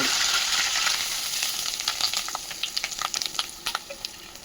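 Hot oil tempering with spices, dried red chillies, curry leaves and asafoetida for a ridge gourd chutney gives a steady close sizzle that turns into sharp, scattered crackles and pops toward the end.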